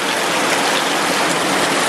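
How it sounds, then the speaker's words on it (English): Heavy rain pours down hard and constant in a Costa Rican rainforest, a dense roaring hiss of water close by with no letup. "It is absolutely pouring."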